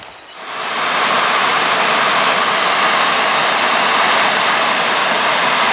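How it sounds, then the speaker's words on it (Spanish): Steady broadband rush of the Nansa river's flowing water on a riverside trail in Cantabria, a dense, continuous roar that swells in over the first second and then holds loud and unbroken, with no voices. "El río Nansa impone su presencia con el sonido de su caudal."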